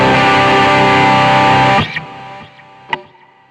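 Electric guitar through a Zoom G5 multi-effects unit on a Bogner drive amp model with delay and reverb, a loud distorted chord ringing out, then cut off, leaving faint delay repeats and a reverb tail.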